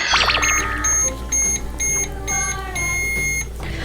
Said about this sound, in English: And we gotta start our microwave.